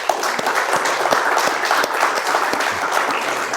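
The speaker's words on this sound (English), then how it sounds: "just give a round of applause for Birdman" A studio audience claps loudly for a guest at a live show, a continuous crowd round of applause with a few sharper individual claps standing out, sustained throughout without any speech.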